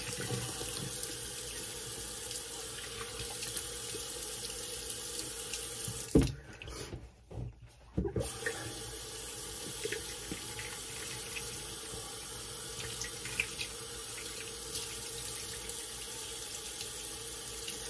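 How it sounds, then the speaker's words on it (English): Tap water runs steadily from a faucet to rinse shaving alum off after a shave, a continuous broadband splash that briefly cuts out and sputters mid-way before flowing again. "We'll rinse off the alum real quick."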